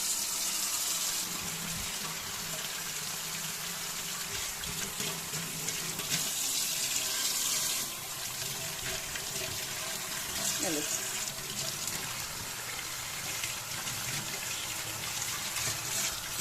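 Hot water gushes steadily from a kitchen faucet that had been frozen in the cold, a loud, constant hiss and splash lasting throughout, with a voice speaking faintly underneath.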